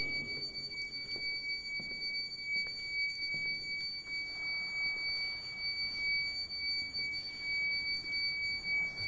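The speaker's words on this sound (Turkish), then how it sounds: "Burada bir alarm ünitesi çalıyor." A faint, continuous electronic alarm tone from an alarm unit inside the Surp Yerrortutyun Armenian church in Sivrihisar holds steady throughout, high-pitched and unchanging beneath quiet room noise.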